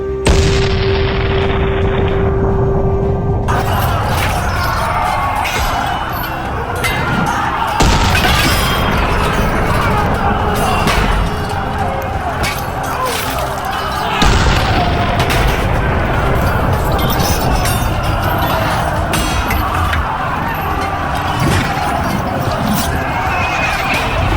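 Cannon fire from Mughal guns set up in Bhairav Khind pass, battering the white bastion of Purandar hill fort during a siege: a loud, dense barrage of booms and crashing impacts that runs without a break for the whole stretch.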